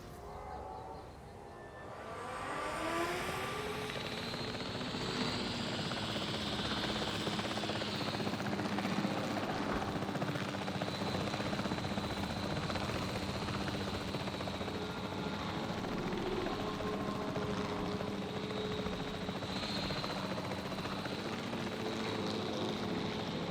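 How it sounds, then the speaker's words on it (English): A helicopter flies in Jurassic World Evolution 3, its rotor drone starting softly and then holding steady and fairly loud for the rest of the stretch, with game background sound underneath. "Where's the helicopter? There he is."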